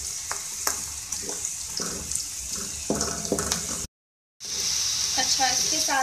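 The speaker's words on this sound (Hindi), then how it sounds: "इसको भी हम फ्राई करेंगे।" Garlic frying in a pan for a spinach and potato saag gives a bright, steady sizzle with stirring clinks and scrapes, cutting out briefly before the hiss returns louder.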